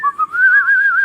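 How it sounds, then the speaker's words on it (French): A person whistles a short melodic tune, two quick notes followed by a longer sustained wavering line, close and clear with no talking. "il siffle très bien"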